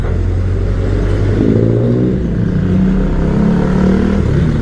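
Street traffic in Malabon with cars and motorcycles passing, a steady loud engine rumble with revving swells, close by and continuous with no talk.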